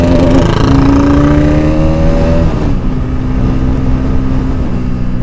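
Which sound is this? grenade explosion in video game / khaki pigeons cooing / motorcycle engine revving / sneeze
motorcycle engine revving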